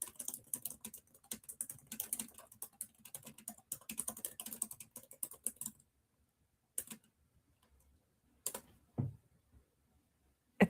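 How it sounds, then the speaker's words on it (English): Rapid typing on a computer keyboard, a dense run of close, crisp key clicks for several seconds, then silence broken by a few isolated key taps. "It's the keyboard sounds."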